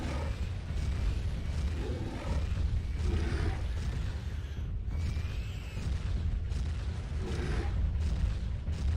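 Rumbling explosions as houses are blown up in Turok 2, a dense, continuous roar of blasts and booms with repeated bursts swelling over the whole stretch.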